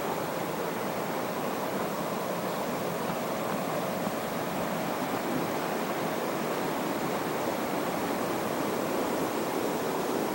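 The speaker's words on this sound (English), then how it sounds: "You can hear the river just down below me." A river rushes below a mountain trail in the Great Smoky Mountains, a steady, full broadband roar of flowing water heard from a short distance, unbroken and even for the whole stretch.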